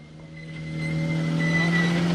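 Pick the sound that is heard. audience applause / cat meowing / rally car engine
rally car engine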